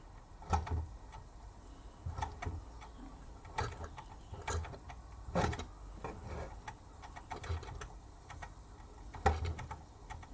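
Soft, irregular mechanical ticking and clicking from a rare Bing twin toy steam engine running, with faint chuffs over a low background hum.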